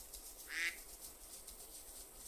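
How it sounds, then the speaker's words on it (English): A duck in the hunting video game Way of the Hunter 2 gives a single short quack, faint and distant, over a quiet outdoor ambience. "Oh, that's a duck."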